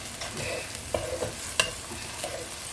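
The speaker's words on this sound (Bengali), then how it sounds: "আদা রসুনটা ভালো করে ভেজে নেবো যতক্ষণ না কাঁচা গন্ধ যাচ্ছে।" Ginger and garlic frying in a pan for a chicken curry, a steady soft sizzle with occasional stirring scrapes and clicks of a utensil against the pan, close and fairly quiet, with no talking.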